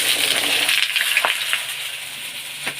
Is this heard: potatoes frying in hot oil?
yes